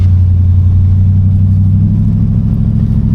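A 1967 Oldsmobile Delta 88 V8 runs with a loud, deep, steady rumble, heavy low-end throb close by and held at a constant pitch without clear rises.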